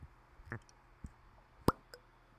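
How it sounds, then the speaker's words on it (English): A cork pops from a bottle of Calvados apple and pear brandy, one sharp, close pop standing out above faint background sounds, with a few softer taps before it. "Let's pop the cork."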